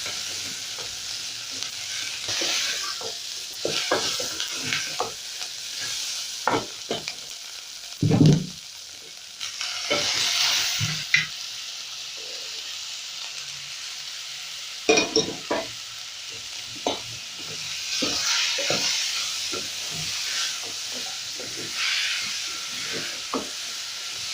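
Beef frying with onions in a pot for a potato beef stew, a soft steady sizzle punctuated by repeated stirring scrapes and occasional louder clanks, heard without speech.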